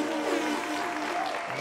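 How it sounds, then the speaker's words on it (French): A studio audience on a live television show applauds for Willy, a steady, dense wash of clapping that holds at an even level for the whole stretch, with faint tonal murmurs beneath. "Applaudissez pour Willy."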